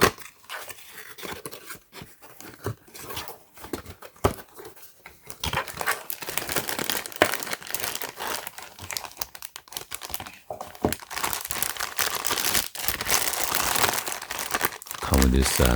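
Sealed plastic packaging around a pair of DeWALT clear safety goggles being opened, giving sustained close crinkling and crumpling that grows busier and louder after the first few seconds, with occasional sharp tearing bits.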